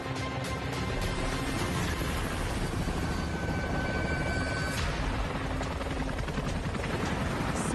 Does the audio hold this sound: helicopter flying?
yes